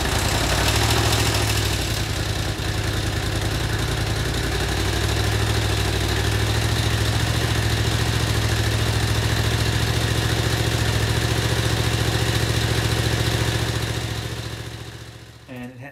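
A Honda CX500 motorcycle with CDI ignition runs in neutral during a rebuild, a loud, steady idle rumble with a constant low throb that holds for most of the stretch before suddenly cutting out near the end.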